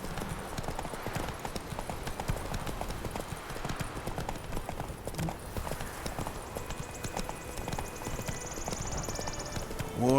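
Hooves of the horse Roach clip-clopping at a trot in The Witcher 3, a steady rhythmic patter continuing throughout at moderate volume over faint game ambience.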